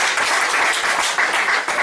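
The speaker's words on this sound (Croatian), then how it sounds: "Simona Carajlija i Strahinja Milovac, pozdravimo ih jednim aplauzom." Applause from an audience at a book promotion event, dense steady clapping from a full room, close and continuous across the moment.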